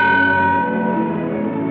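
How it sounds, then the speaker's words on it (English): A single ship's bell struck once aboard a sailing vessel, loud and close, its bright metallic tone ringing on and slowly decaying across the whole stretch with no voices. "Sound the bell once."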